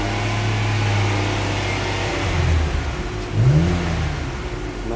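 A Ford Explorer with a muffler delete and MagnaFlow exhaust, no resonator, idles after a cold start with a steady mid-pitched engine drone and two brief revs rising over it, recorded close by.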